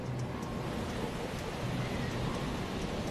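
A giant ocean wave crashing against a rescue ship in the North Sea in winter comes through as a dense, continuous roar of rushing water and spray, steady and loud for a few seconds with no voices.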